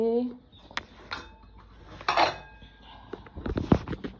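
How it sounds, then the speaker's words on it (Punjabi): Washed kitchen dishes and utensils are put away at home, with scattered clinks and clatters of metal and crockery, a few sharper knocks near the end, close and moderate. "ਆਹ ਵਾਲੇ ਭਾਂਡੇ ਆਪਾਂ ਇਹ ਰੱਖ ਦਵਾਂਗੇ"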